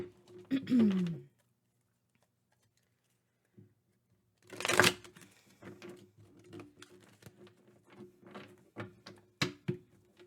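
Bursts of tarot cards being shuffled and riffled, a loud flurry in the middle followed by scattered patters and taps over a faint hum.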